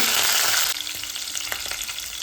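Green chillies and curry leaves hit hot oil with a loud, dense hiss that settles into a steady crackling sizzle with scattered pops, close up and alone.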